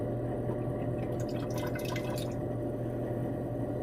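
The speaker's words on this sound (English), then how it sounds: "we're going to go ahead and pour" Liquid pours into a beaker during sterling silver scrap refining, a short burst of trickling and dripping over a steady background hum, fairly quiet with no voices.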